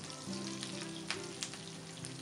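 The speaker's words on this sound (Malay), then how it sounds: "Kita masukkan 3 ke 4 tangkai daun kari, 1 sudu besar halba campur." Curry leaves and mixed fenugreek seeds fry in hot cooking oil in a pot, giving a steady close sizzle and crackle with a few sharper pops and no talk, for a dhal curry for roti canai.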